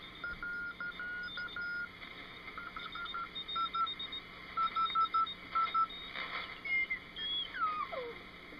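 A war surplus radio transceiver being netted to zero beat gives off faint, intermittent beeping tones and short whistles over steady receiver hiss, ending in a sliding tone that sweeps downward.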